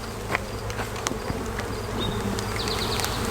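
Honey bees disturbed by smoke buzz loudly and densely around an open hive as its frames are handled, with a steady swarm drone, single insects flitting past up close, and the buzzing growing a little louder toward the end.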